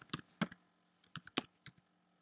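A few sparse, crisp keystrokes on a computer keyboard, close and fairly quiet, coming in two small bursts with a short gap between them.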